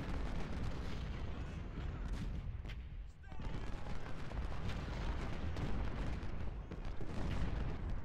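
Artillery barrages in a Civil War battle in Ultimate General: Civil War, a dense, continuous rumble of cannon and musket fire with a short lull near the middle before the booming resumes.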